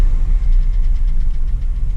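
A 3.8L V6 in a fourth-generation Camaro clatters as it decelerates. A loud, close, low mechanical rattle and knock runs continuously under a rough engine drone, with no talking.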